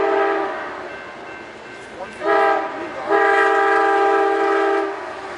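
An Amtrak train with a P-42 locomotive passing Oceanside or Carlsbad Village station, sounding a steady multi-tone horn in two blasts over a rumbling background, moderately loud at a distance.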